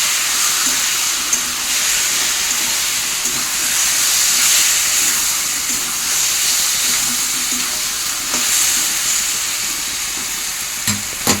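A ghugni spice paste of ginger, onion, garlic and chilli fries in a pan with a steady, even sizzle and hiss that runs the whole time. The sound is close and constant, with no talking.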